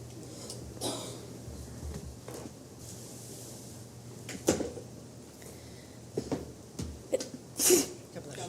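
A single sharp human sneeze in a meeting room, near and loud, among a few brief bumps and breaths, with quiet talk in the room around it.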